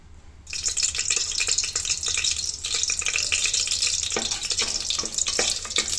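Cinnamon, cloves, cardamom and bay leaf sizzle in hot ghee inside a pressure cooker, a steady close crackling fry with small pops and spatters throughout after a brief quiet start.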